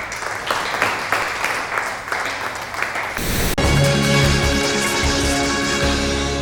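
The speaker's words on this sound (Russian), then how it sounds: "под общие аплодисменты класса" A school class claps together during a small award ceremony in which a pupil receives a pedestrian certificate; the applause lasts about three seconds before loud music takes over.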